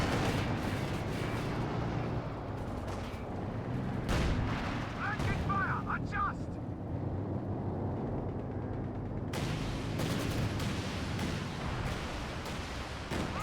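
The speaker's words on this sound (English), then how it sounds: "Oh, be also a decent barrage from the mattress." A rocket barrage from a mattress launcher in a strategy war video game, a stream of booming explosions and whooshing launches over rumbling battle noise, with a commentator talking over it.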